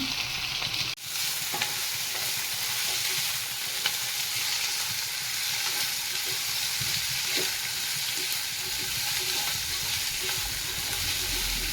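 Broccoli and capsicum sauté in hot oil with a dense, continuous sizzle and a brief clatter near the start. Spoon stirring sounds run steadily underneath, close and loud, with no voices.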